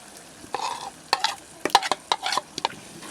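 Yogurt mixed with chickpeas is stirred into a frying masala for egg chana, producing a soft sizzle broken by a run of sharp spoon scrapes and clicks against the pan.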